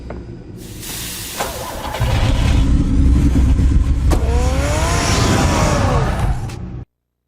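A car engine in the Batman Telltale Series game starts up, then revs loudly and steadily with rising pitch sweeps for several seconds before cutting off abruptly, close and alone.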